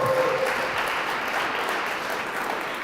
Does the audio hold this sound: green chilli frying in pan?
no